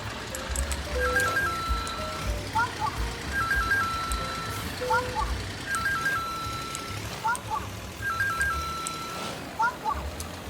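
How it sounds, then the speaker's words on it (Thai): A video-game truck backs up with a repeating pattern of short high reversing beeps, in regular bursts over a steady low rumble. "มีเสียงถอยด้วยนะ"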